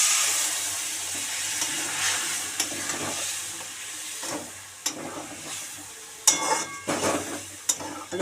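A biryani masala with garlic, already fried down in a pan, gets a splash of water and sizzles and hisses steadily. Stirring scrapes and a few sharp metallic clinks of utensil on pot break through the sizzle.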